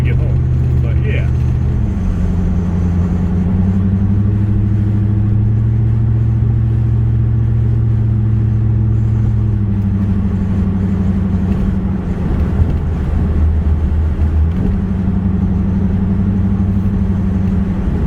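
A C4 Corvette with a newly installed radiator cruising on Illinois roads, its low engine drone steady and loud from inside the cabin, with gear-like shifts in pitch and someone talking over it.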